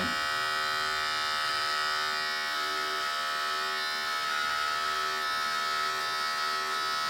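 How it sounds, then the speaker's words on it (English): Electric hair clippers buzz steadily while cutting hair for a basic back and sides haircut at home, a loud continuous hum heard alone throughout. "we close that lever on the clipper and we repeat the process"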